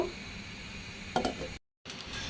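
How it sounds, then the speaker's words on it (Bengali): Fish with potatoes and green beans gently stirred in a sizzling pan, soft scraping and frying hiss with a brief louder stir near the middle, then a short gap of silence before the sizzle resumes. "আলতোভাবে একটু নাড়াচাড়া করে দিচ্ছি"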